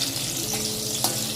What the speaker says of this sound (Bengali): আর এই যে দেখো, পটল ভাজা করছি তাড়াহুড়োর মধ্যে